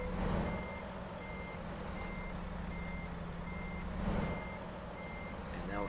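A truck's reversing alarm beeps steadily in American Truck Simulator, a regular even pulse over a low engine rumble while the rig backs up, fairly quiet and distant.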